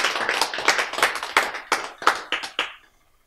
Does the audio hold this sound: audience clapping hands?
yes